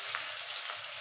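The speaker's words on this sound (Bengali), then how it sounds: "তাহলে চলুন আমি এপুট এপুট করে মাছগুলো ভেজে নিই" Pieces of rohu fish frying in hot oil give a steady, dense sizzle with a faint stirring scrape, close up and without any talking.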